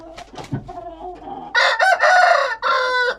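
A wounded rooster crows loudly and close by, one long, strained call in several bursts, after a few softer clucks and rustling sounds.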